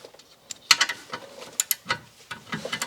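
A ratchet loosens H7 hex-head bolts on the brakes of a Subaru Outback with 182,000 miles, giving a few sharp clicking bursts and metallic knocks spaced over a couple of seconds, close by with no talking.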